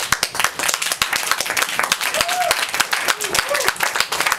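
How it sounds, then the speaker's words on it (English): Audience applause after a reading at a live music venue, scattered claps mixed with crowd noise and a few brief whoops, steady and fairly loud throughout. "Can we get another round of applause for our first 3 fabulous MFA?"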